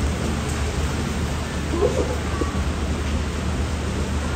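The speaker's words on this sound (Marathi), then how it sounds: "किती पाऊस होतो बघ ना." Dense, constant roar of heavy rain pouring down close by, steady throughout with no breaks.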